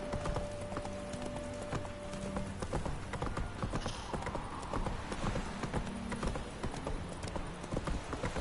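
Geralt's horse Roach gallops in The Witcher 3, hooves drumming in a quick steady rhythm close up, with game music and a brief whinny-like tone mixed in.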